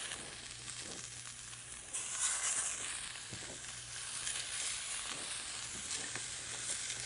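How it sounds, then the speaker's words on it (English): Meat searing in olive oil in a pan over medium heat produces a constant hissing sizzle that swells louder after the first couple of seconds and holds steady, with no talking. "So you're going to sear it on either side for about 5 minutes."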